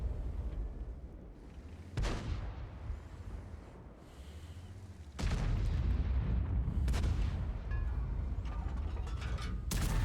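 A tank gun fires in World of Tanks, with sharp booming shots at about two, five and seven seconds, each followed by a heavy rumbling tail over a low engine drone, close and loud.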